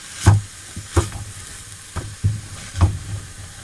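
Cut potatoes tossed into a hot pan of fragrant vegetables for minestrone sizzle steadily, with several sharp stirring scrapes and clatters at irregular intervals, close and clear with no talking.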